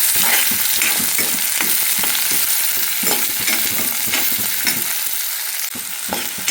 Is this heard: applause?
no